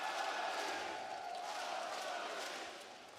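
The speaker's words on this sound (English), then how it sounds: "the Astana crowd are chanting Astralis" An esports crowd at the PGL Astana 2025 event chants and roars as a loud, steady wash of voices filling the arena for a few seconds.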